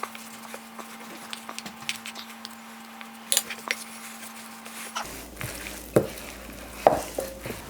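A spoon scrapes and squishes through thick Anzac biscuit mixture in a bowl, making soft irregular strokes close up. A steady hum runs under the first half, and the knocks grow sharper toward the end.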